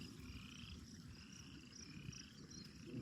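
Frogs croak at a pond in a dense, continuous chorus of rhythmic trilling calls, faint and steady, with no talking.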